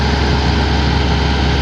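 A Hitachi machine's engine idling fast at a steady, high idle, a loud continuous droning rumble with no change in pitch throughout.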